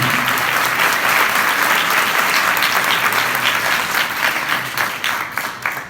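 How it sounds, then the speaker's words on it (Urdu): Participants at a Catholic Bible study session give loud, enthusiastic applause, a thick sustained roar of many hands clapping close by that thins out slightly toward the end. "زوردار تالیاں"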